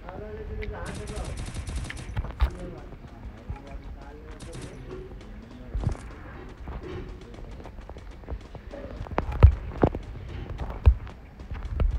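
Gunfire from the Free Fire video game comes as several sharp shots and short bursts scattered over the stretch, alongside footsteps and game sounds while a player talks.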